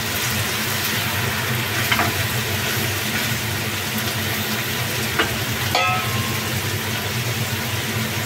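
Yardlong beans (borboti) fry in oil over a low flame, giving a steady, close sizzle with soft crackles and an occasional sharper pop, and no voices over it.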